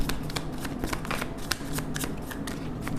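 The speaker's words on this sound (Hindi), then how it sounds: "Last shuffle." Tarot cards being shuffled by hand in a steady run of crisp riffling flutters and soft slaps over about three seconds, close and fairly quiet, with no talking.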